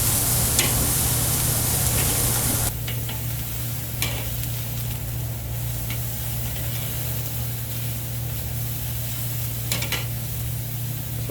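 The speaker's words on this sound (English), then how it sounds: "I'm gonna go ahead and give it a nice good sear" Carne asada meat searing on a charcoal grill, a steady broad sizzle with a low hum underneath, easing slightly after a few seconds, with occasional faint clicks of handling.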